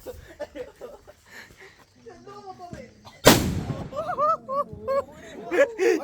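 A rocket firecracker bursts with one loud, sudden crack partway through, while a group of people chatter and react around it before and after.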